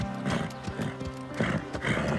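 Horse named Cobalt galloping with rhythmic, close hoofbeats and a loud neigh overlapping the strides, in a riding scene.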